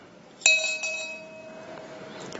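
A quick ring of a small bell during a memorial reading of workers' names, a crisp single strike whose pure tone lingers and gradually fades in a quiet hall.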